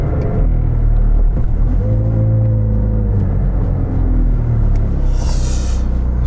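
A McLaren 765LT supercar on a test drive, its engine rumbling loudly from inside the car and rising and falling in pitch as it accelerates and shifts, with a brief brighter burst near the end.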